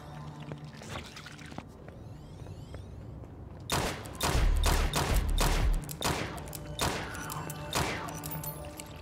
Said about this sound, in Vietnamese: Hôm qua thì tôi đã nâng cây súng này lên bật nữa, nên cảm giác nó bắn rất mạnh.